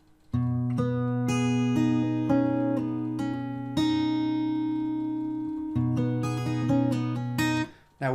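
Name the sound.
acoustic guitar playing part of a song slowly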